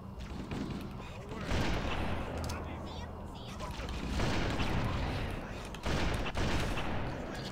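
Grenades and rapid gunfire cutting down enemies in Halo CE's Truth and Reconciliation level, a continuous dense barrage with repeated heavy bursts, loud and close, and brief talk over it.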